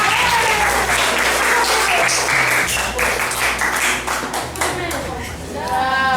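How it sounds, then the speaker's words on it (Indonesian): A classroom full of students claps for a presenting group, a sustained, dense round of applause lasting the whole stretch, with voices and some shouting mixed in. "Kasih tepuk tangan untuk mereka."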